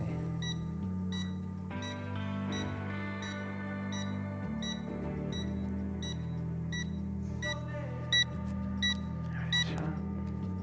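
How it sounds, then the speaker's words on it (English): A series of short electronic beeps from a beginner drone, some single and some in quick pairs, rising over the steady hum of its motors. "Oh, it's beeping."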